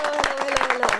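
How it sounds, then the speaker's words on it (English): A live audience at a podcast taping applauds, a steady wash of clapping with rhythmic peaks, under a faint sustained tone. "Big round of applause, Miss GeeGee Star"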